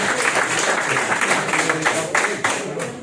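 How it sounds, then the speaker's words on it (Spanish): An audience applauds after a talk about the guerrilla in Unquera, a dense, even roar of clapping from a crowd, steady throughout with a few louder claps standing out. "te vamos a dar un aplauso"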